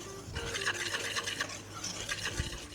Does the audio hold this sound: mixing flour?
yes